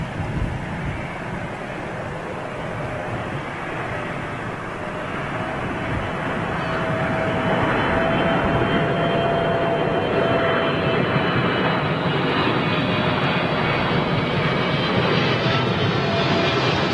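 A Qatar Airways Boeing 777 approaches to land at Manchester Airport. Its jet engines make a broad roar that slowly grows louder as the plane nears, with wind rumbling on the microphone.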